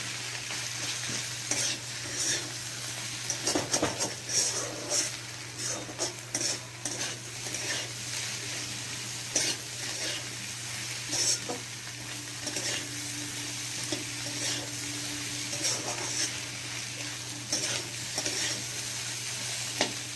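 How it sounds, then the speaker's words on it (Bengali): Ingredients frying in a pan for pasta, with steady sizzling and repeated scraping stirs of a utensil against the pan, close and continuous with no talk. "দিয়ে এর সাথে আবার একটু ভেজে নিলাম।"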